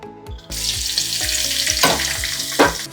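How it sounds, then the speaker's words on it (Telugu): Sliced onions sizzle loudly and steadily in a hot pan for chicken pulao, with a few clinks of a spoon stirring, close up and continuous without any talking. "ఇవి రెడ్ అండ్ బ్రౌన్ కలర్లో రావాలి అంతవరకు ఫ్రై చేసుకుందాం"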